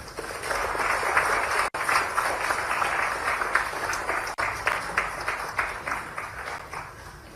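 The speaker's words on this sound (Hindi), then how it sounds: "ये तालियों की गड़गड़ाहट बंद नहीं होनी चाहिए" A large audience claps in steady, sustained applause at an event, a dense, even roar of hands with no voices over it.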